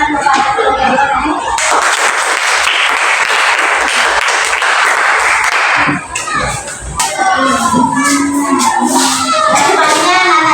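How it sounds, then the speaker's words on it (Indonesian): Loud, sustained applause from families at a state elementary school event, a dense crowd of clapping with scattered shouts from children, briefly dipping before rising again with voices mixed in. "Berikan tepuk tangan kepada keluarga."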